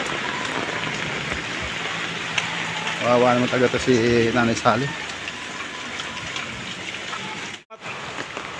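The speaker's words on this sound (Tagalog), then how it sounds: "lakas ng ulan, no?" Heavy rain pours steadily as a constant broadband hiss of drops, audible throughout under someone speaking briefly in the middle, with a short rustling dropout near the end.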